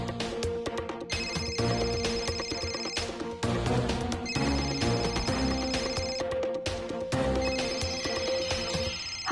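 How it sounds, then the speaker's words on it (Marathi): A telephone ringtone plays loud and close in bursts of repeating electronic melody, ringing on unanswered in a domestic scene from a Marathi TV serial. "हा फोन का उचलत नाहीये?"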